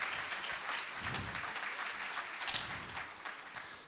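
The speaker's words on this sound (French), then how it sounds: "On peut l'applaudir," An audience claps steadily for an award winner at a trophy ceremony, dense continuous applause from a room of people, moderately distant and lasting throughout.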